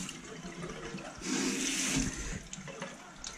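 Tap water runs into a sink to rinse freshly caught crayfish, a steady close splashing stream that swells for about a second in the middle before easing back, with no talking.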